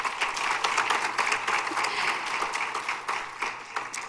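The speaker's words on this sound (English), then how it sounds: "You can clap." An audience at a high school senior scholarship awards ceremony claps steadily throughout, a dense sustained round of applause with no voices over it.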